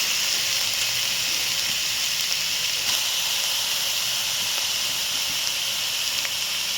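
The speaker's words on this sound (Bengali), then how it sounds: "এটা একটু ভাজা হোক, তারপর আমি দুধ দেবো।" Carrots frying in ghee in a pan for carrot halwa, giving a steady, even sizzling hiss that holds throughout at moderate loudness with no talk.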